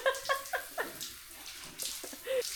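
Water from a cold shower during a trek around Pokhara Valley splashes in uneven bursts and spatters, close and fairly quiet, with short tonal squeaks mixed among the drips and gushes.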